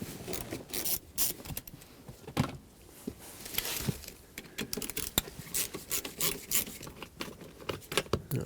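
Phillips head screws come out of a 2008-2020 Dodge Grand Caravan folding seat with close, irregular scraping, ratcheting and plastic rubbing noises in a quiet setting.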